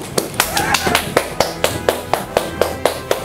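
Steady rhythmic hand clapping, about a dozen sharp claps at an even pace, close by, with voices murmuring underneath.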